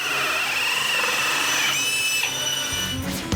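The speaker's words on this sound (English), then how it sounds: "Did you hear the sound of the drill as it made the plug hole?" A power drill whines steadily, boring a plug hole in an acrylic bath, its high pitch shifting as it bores, then winds down at the end; no voices.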